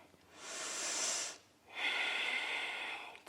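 Deep, slow breathing during a yoga hip and hamstring stretch: one long airy inhale, a brief pause, then a longer hissing exhale, heard close and alone.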